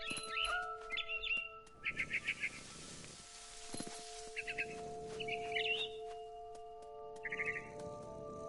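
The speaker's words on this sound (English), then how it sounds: "It was a barn swallow going back to her nest." A barn swallow in What Remains of Edith Finch chirps in repeated quick bursts of bright twittering notes, fairly close, set over a steady game ambience with faint tonal hums.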